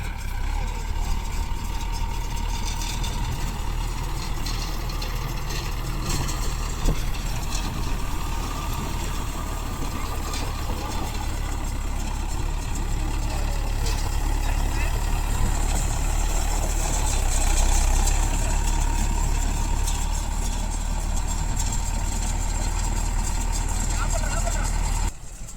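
A Mahindra 575 Yuvo Tech Plus tractor engine runs steadily in farmland, a continuous loud low rumble with a constant drone through the whole stretch, with talk faintly under it.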